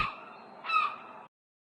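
A seagull call cries out once aboard a ship, a brief harsh squawk that swells midway, close and alone before cutting off.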